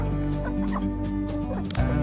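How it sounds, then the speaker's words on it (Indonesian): Native village hens (ayam kampung) kept as breeding stock on a farm cluck in short repeated calls over a constant noisy background. "kalau misalnya bibit dari ayam kampung, ya inilah dia induk-indukannya"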